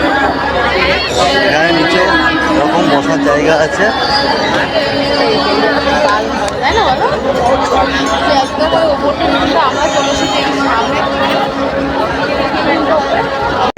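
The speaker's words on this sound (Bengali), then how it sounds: "এই যে দশমেধ ঘাটে গঙ্গা আরতি দেখার ভিড় দেখো" A large crowd gathers at Dashashwamedh Ghat in Varanasi ahead of the Ganga aarti, a continuous close babble of many voices and chatter, with a nearer person talking over the din.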